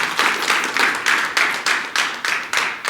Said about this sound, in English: Can we have another round of applause for yourself for being here?